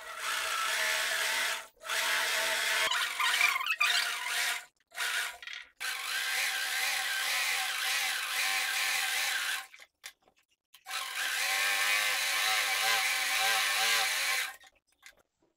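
A sewing machine stitches a seam on a diaper changing pad in long steady runs with brief pauses, a close, even mechanical whir with no talking.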